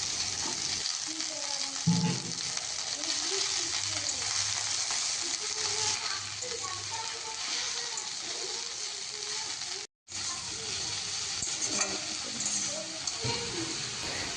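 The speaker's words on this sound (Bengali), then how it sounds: "এবার কেটে ধুয়ে রাখা নোটে শাকগুলো কড়াইতে দিয়ে দেবো" Steady sizzling of red amaranth greens (note shak) frying in hot oil in a wok, continuous and close, with faint stirring and a brief drop-out near the end.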